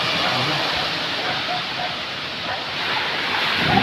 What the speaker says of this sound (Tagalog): Grabe ang lakas ng bagyo dito sa Pilipinas.